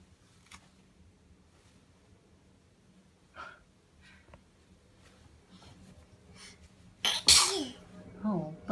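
A single sharp human sneeze bursts out near the end, loud and close, after a stretch of quiet room noise with faint breathing and small movements.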